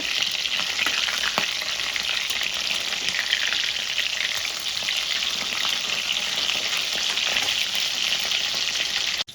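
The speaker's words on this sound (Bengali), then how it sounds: "আমি সবগুলো মাছ একসঙ্গে ভাজবো না অল্প অল্প করে ভেজে নেব" Pieces of rui fish frying in hot oil, a dense continuous sizzle and crackle heard close up, with no voices over it.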